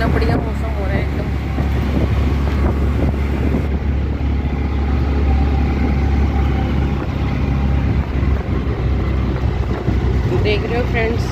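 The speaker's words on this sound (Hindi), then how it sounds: "ठंडी हवा चल रही है यहाँ पर" Cold wind blowing steadily outdoors, a continuous broadband rush with microphone buffeting across the whole stretch, while someone speaks over it.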